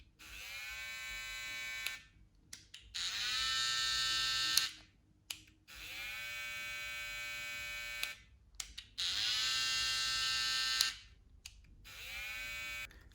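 An electric hair clipper buzzes in four long bursts separated by short pauses, a bright, steady, close-up drone switched on and off with no speech.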